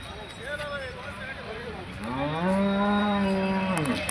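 A calf lets out a long, loud moo near the end, following softer lowing earlier, with steady outdoor background noise throughout, at a cattle market.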